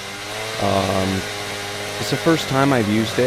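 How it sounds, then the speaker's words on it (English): An 8-inch auger drilling down into a pit at a gold mine gives a steady, droning engine hum that runs throughout, with someone talking over it. "right now I'm using that 8-inch auger to drill down in my pit"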